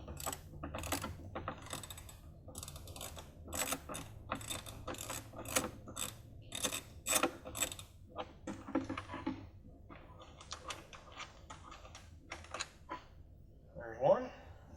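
Bolts being loosened on the bracket of a half-inch valve in a smaller Ritchie Omni unit, heard as a string of sharp ratcheting clicks in quick bursts with brief pauses, close to the microphone.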